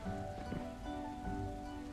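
Steady rain patters on surfaces in the (P)lanets video game, a soft continuous downpour under faint background music.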